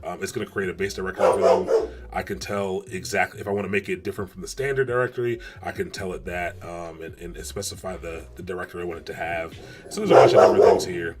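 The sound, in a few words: Rottweiler dog barking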